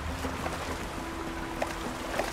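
Water flows steadily in the game Horizon Forbidden West, a continuous washing, trickling sound at moderate level with a faint tonal hum underneath and no speech.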